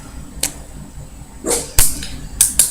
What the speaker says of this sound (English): She likes to bark.